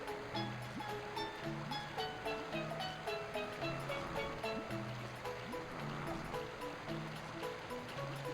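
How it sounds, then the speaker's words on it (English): Bubbling, gurgling water sounds from a Chao blowing many bubbles in the Sonic Adventure 2 Chao Garden, steady and continuous under music-like tones. "Yeah, he's blowing a lot of bubbles this time."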